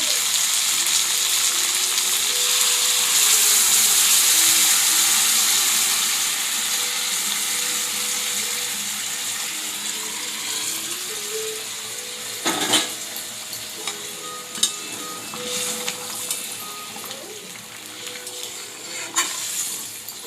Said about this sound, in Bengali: এবার আমি এতে গরম করা জল দেব।